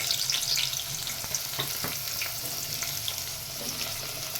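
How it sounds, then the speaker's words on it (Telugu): Chopped onion, green chili and tomato frying in hot oil, a steady close crackling sizzle with occasional soft stirring taps, no talking. "ఆయిల్ వేడైందండి. మనం తరిగిన ఉల్లిపాయ, పచ్చిమిరపకాయ, టమాటా 3 ఒకేసారి వేసేసుకుందామండి."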